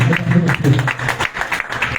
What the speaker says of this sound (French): je veux une salve d'applaudissements